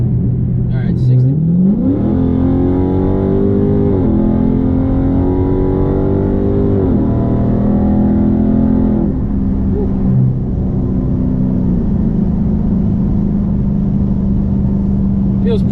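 A tuned Dodge Charger 392 V8 pulls hard up to 60, its engine note climbing in pitch through several gear changes with brief dips, loud and close from inside the cabin before settling to a steady cruise drone.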